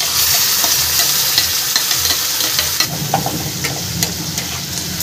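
Ground spice paste sizzles and fries with browned onions in a pan, a steady hiss broken by scraping stir strokes, close and fairly loud with no talk.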